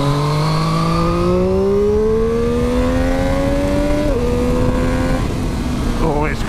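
Motorcycle revving hard and climbing steadily through high revs, a rising engine whine that dips at a gear change near the end, close and loud, with a rider's voice over it.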